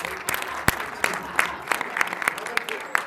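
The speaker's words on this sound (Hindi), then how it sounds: "तालियां जरूर बजाओ।" Hall audience clapping at an award ceremony and musical show, with scattered sharp individual claps over a background crowd murmur and some voices, moderately loud.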